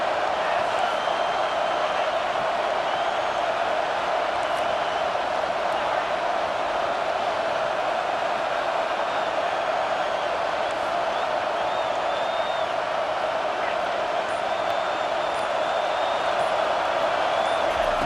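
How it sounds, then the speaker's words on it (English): A stadium crowd at a Clemson versus Michigan college football game roars steadily for the defense on third down, a dense continuous wall of cheering with no breaks. "Decibels rising as the crowd gets behind this defense on third down."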